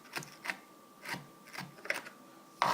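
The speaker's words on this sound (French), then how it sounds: "on prend un couteau et on hache les noix" A knife chops walnuts into very small pieces on a board, giving a series of sharp, close knocks in an irregular rhythm, about seven strokes with a louder one at the end, and no talking.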